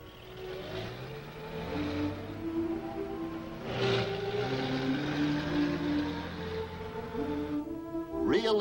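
Ambulances and buses drive past during a staged hospital evacuation exercise, with an engine rumbling and a revving drone rising and falling at moderate distance for several seconds.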